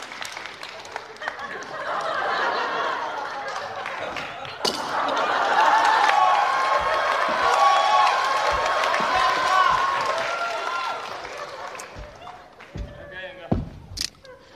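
An audience at a Chinese comedy crosstalk stage show applauds and cheers in a broad, sustained swell that builds and then fades, with performers talking over and around it.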